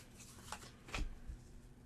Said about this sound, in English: Then we shuffle this stack up